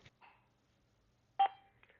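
Avaya IP Office desk phone sounds dialing tones, a few short separated beeps and one louder tone, heard alone in a quiet room.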